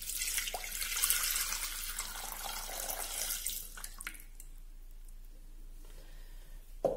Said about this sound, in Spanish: Lo primero que vamos a hacer es incorporar el agua.